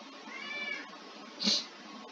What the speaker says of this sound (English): Sorry, that was my cat again.